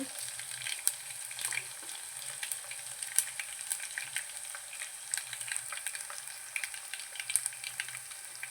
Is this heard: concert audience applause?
no